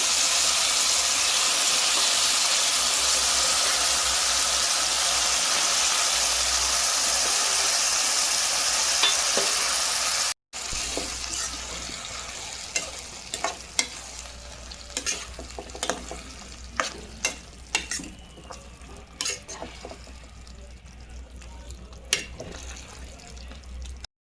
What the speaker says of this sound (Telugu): తాలింపులు అయితే వేసేస్తున్నాను.